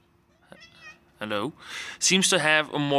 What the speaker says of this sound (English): my cat decided to say hello